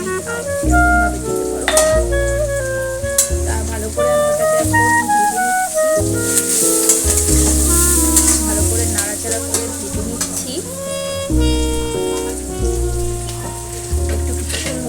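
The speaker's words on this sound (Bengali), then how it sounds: "ভাজতে হবে ভালো করে যাতে এটা একটু ভালো করে ভাজা হয়" Pasta frying in a pan, a continuous sizzle with stirring scrapes that runs under steady background music.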